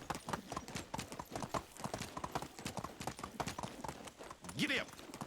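Horse hooves clip-clop in a steady rhythmic gait in the medieval game Medieval Dynasty, fairly close and continuous, with a brief whinny-like call near the end and a person talking over the hoofbeats.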